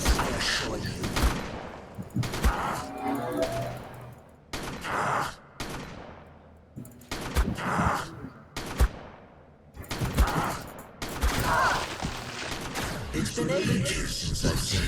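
Rapid automatic gunfire in the ARK Aberration boss fight against Rockwell, a video game, with bursts of shots cutting in and out between brief pauses. Loud and close, with a voice talking over parts of it.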